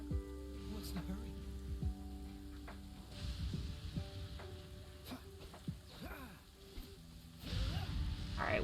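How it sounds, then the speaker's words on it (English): Rain in the Genshin Impact video game world, a soft steady patter spread under game music and effects while someone talks over it. "Oh, it's really gonna rain."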